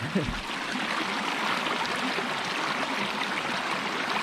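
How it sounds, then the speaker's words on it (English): Water gushes and spurts upward from a culvert along a mountain hiking trail, a steady rushing splash that runs nearly constant and close throughout, with a brief low thump near the start. "So there's enough pressure in that culvert to shoot the water upward."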